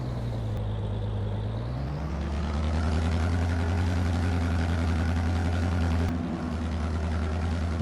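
A tractor engine in Farming Simulator 22 holds a steady, loud, low drone with a droning harmonic hum, its pitch stepping up once and then staying level, with no voices.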